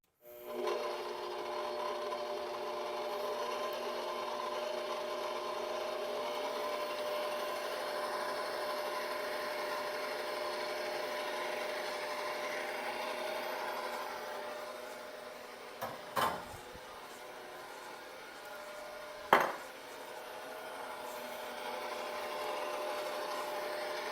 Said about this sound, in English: I'm going to use the whisk attachment this time. Start off slow because it will go everywhere.